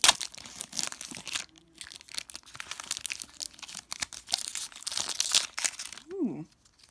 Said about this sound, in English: this pack I'm opening today